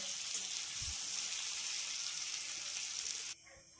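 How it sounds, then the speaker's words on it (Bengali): Raw mango pieces are stirred in hot oil with tempering spices, giving a steady bright sizzle with a soft thump from the stirring; the frying cuts off abruptly near the end, leaving quieter room noise. "ফোড়নের সাথে বেশ ভালো করে আমি এটা নাড়িয়ে নিচ্ছি।"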